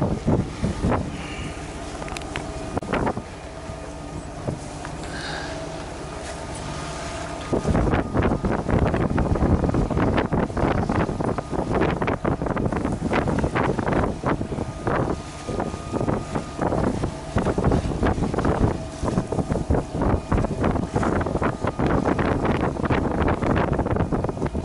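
Strong, steady wind buffets a boat at sea during a rainy storm, roaring loudly and continuously and growing harsher partway through, with gusty rustling against the microphone.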